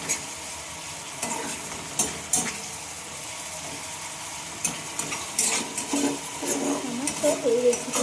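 Spice masala for a raw-egg dish is sautéed in a pan with an ongoing sizzle and frequent spatula scrapes and knocks against the metal, close and uneven in rhythm.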